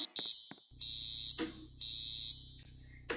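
A weapon detector alarm in the Roblox game Brookhaven beeps in loud, sustained high-pitched tones, three long blasts broken by short gaps and a brief extra beep at the start, with no talking.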